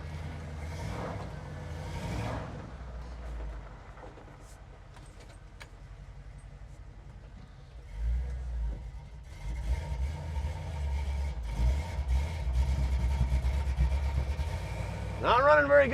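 An LS-swapped squarebody 4x4 shortbed pickup truck driving and running rough, a low uneven engine rumble that grows louder and busier partway through, with a brief voice near the start and end.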